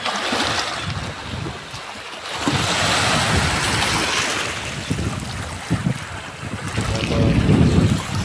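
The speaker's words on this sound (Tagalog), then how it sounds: "Sarap pakinggan ng alon umampas sa gilid ng buhangin guys." Waves wash steadily against a sandy shore at a clear-water beach near a rock formation in Batangas, heard as a continuous loud surf roar mixed with heavy wind buffeting the microphone.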